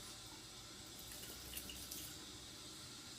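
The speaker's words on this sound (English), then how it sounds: "So I'm wetting the head of the 6-blade razor" A water tap runs steadily into a sink while the head of a six-blade razor is wetted under the stream, a soft continuous hiss with a few faint splashes, nearby and without talk.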